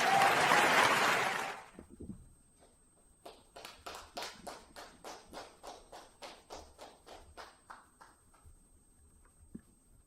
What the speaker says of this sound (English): welcome Dr. Chella and Mr. Jai Shri Ram COH with a huge round of applause, please.